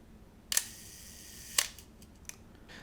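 A Pentax K1000 35mm film camera shutter fires at a one-second speed: a sharp click opens it, a second click closes it about a second later, and a faint small click follows.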